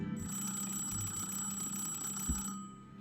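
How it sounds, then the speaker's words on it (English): An old-style telephone rings in the political strategy game Suzerain, a steady electronic trill held for about two and a half seconds and then cut off, fairly faint over low background music. "the phone started ringing"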